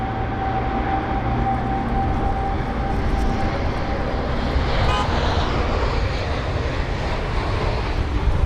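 British Airways Airbus A320-200 arriving at London Heathrow during a storm, its jet engines giving a loud, steady roar that builds and peaks near the middle over wind and distant road traffic.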